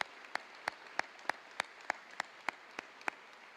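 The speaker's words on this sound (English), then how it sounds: "Could we give him another big round of applause?" Faint, sparse clapping from a convocation audience welcoming a speaker, a dozen or so sharp, evenly spaced claps at a slow, steady rhythm over quiet room tone.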